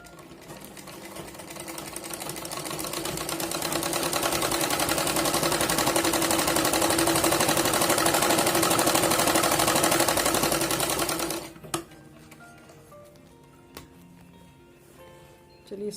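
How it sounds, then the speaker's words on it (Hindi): A sewing machine stitches the seat panel of a ladies' salwar, running loud and steady for about eleven seconds before stopping, followed by a few faint handling clicks. "तो चलिए सिलाई लगा लेते हैं इसको"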